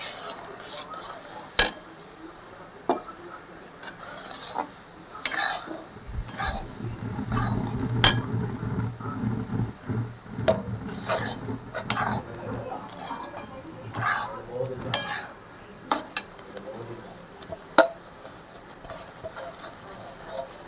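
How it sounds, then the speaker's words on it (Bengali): A spoon clinks and scrapes against a pan while sticky motichur laddu mixture is stirred, with irregular knocks and clatters close by and soft scraping between them. "এটা মিশিয়ে নিয়েছি"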